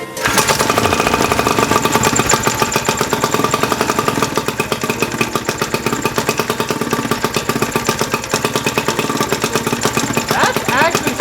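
A 1973 Montgomery Ward Sea King 5HP outboard motor runs loud and close with a rapid, steady popping chatter, sustained throughout with no letup.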